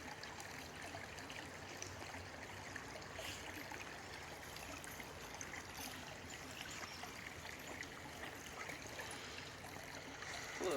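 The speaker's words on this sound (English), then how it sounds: "It's water, Lotus." Steady, faint water flowing and trickling over rocks in a stream, continuous and even with no voices.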